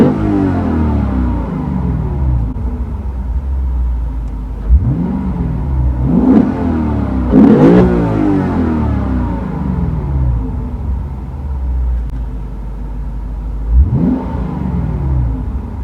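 A stock Lexus RC F, engine still cold from start, idles with a deep exhaust burble and is blipped through several sharp revs, about four separate throttle stabs rising and falling, loud and close with no talking.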